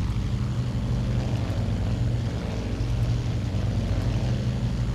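Steady droning propeller engine of a Douglas World Cruiser biplane cruising in a flight simulator, a dense continuous low hum with wind rush, loud and unbroken throughout with no talking.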